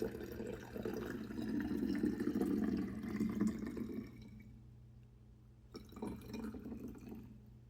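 Water is poured into a hypochlorous acid hydrolyzer, a steady close splashing stream that stops partway through, then resumes briefly over a constant low hum.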